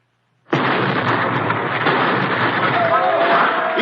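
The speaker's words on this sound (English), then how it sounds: "uncorks both grenades and lobs them down beside the fence" Grenade explosions beside a fence in an old-time radio drama, a sudden heavy blast that swells into a sustained loud roar of rumbling and crackling after a moment of quiet.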